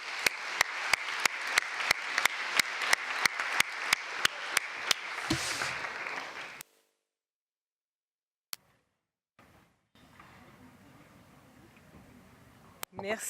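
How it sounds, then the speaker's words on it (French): An audience at a tax conference applauding speakers, a steady close patter of clapping with regular sharp ticks, fading out abruptly into near silence followed by faint murmuring. "Je vous propose d'applaudir nos conférenciers."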